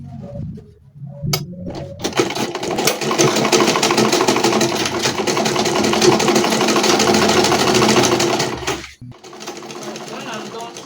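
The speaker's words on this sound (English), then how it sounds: "Yes, I'll fold it in this way and sew down." Sewing machine stitching folded fabric down while making a cap, a loud continuous whirring run of about seven seconds that starts after a few clicks and cuts off sharply, with faint handling noise around it.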